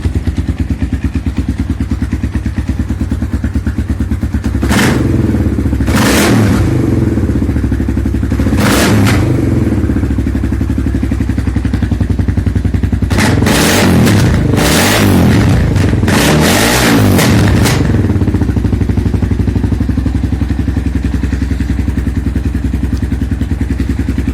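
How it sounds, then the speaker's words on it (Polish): A Kawasaki KLR 600 motorcycle with a freshly rebuilt engine, new piston and reconditioned crankshaft idles with a steady close thump, broken by one sharp rev and then a cluster of quick throttle blips before settling back to idle. "Jak widać motor pali bez żadnego problemu"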